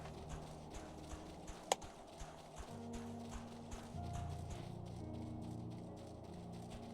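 Creature footsteps in Final Fantasy XIV: a steady clip-clop of hooved steps, moderately close, walking at an even rhythm beneath tonal game music, with one sharp click partway through.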